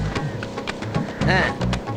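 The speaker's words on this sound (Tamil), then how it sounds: "தண்ணி கொட்டுற சத்தம் கேட்குது" Water pours and splashes in a steady, continuous rush with a few brief surges, close and fairly loud throughout.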